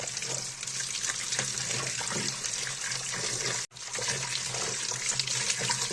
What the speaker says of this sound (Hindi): खुले पानी से मैं साग धो ली पहले।